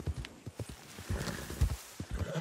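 Hooves of a horse in Red Dead Redemption 2 clip-clop at a walking pace, a quiet uneven series of soft thuds over faint background noise, with no speech.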